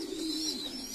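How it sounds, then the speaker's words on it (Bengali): Sirazi and Mong pigeons coo nearby, a soft low rolling coo over a faint background of higher chirps, quiet and continuous without speech. "এখানে 4 জোড়া হচ্ছে সিরাজি কবুতর এবং 1 পেয়ার হচ্ছে মং কবুতর"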